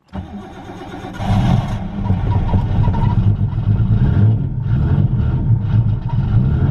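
A Nissan Skyline R32 drift car engine cranks briefly, then catches and fires into a loud, close, steady idle that carries on alone with no voices.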